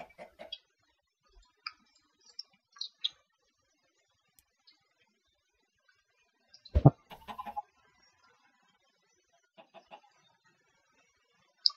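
Chickens in Minecraft give sparse, faint clucks scattered across the stretch, with one louder burst of thumping and clucking near the middle and otherwise near silence.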